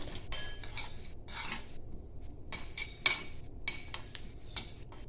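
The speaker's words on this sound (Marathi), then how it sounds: "इथं आता दोन चमचे तीळ भाजायला टाकत आहे" Sesame seeds being roasted in a pan, stirred with a spoon that gives intermittent light metallic clinks and scrapes against a quiet background.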